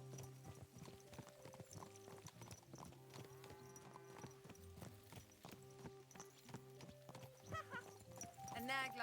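Horse hooves clip-clopping in the medieval game Kingdom Come: Deliverance II, a steady rhythmic trot under background game music with a voice speaking over it.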